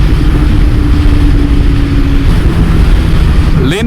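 Suzuki Hayabusa motorcycle engine running steadily while riding, a loud continuous drone with a low hum throughout and a brief rev near the end.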